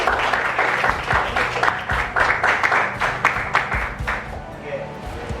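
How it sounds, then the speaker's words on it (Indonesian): A roomful of teachers at a school learning session claps steadily for several seconds, the dense applause thinning toward the end with faint voices beneath. "Tepuk tangan buat"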